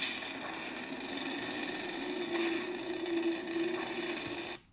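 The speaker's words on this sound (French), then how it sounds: "donc là c'est le son du sabre de Killer Run." A steady electric hum from a SaberForge lightsaber with a low buzzing drone and slight wavering swells, sustained alone for several seconds before cutting off.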